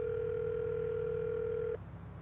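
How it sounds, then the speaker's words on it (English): Ringback tone on an outgoing phone call: a steady electronic tone holds for under two seconds and then cuts off, leaving a low line hum, with no one speaking. "Hey, it's ringing."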